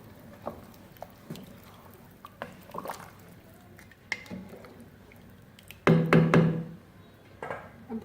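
Rice for chicken pulao being stirred in a cooking pot, giving soft wet squishing and scraping sounds with a few utensil knocks against the pot and a louder burst of stirring partway through.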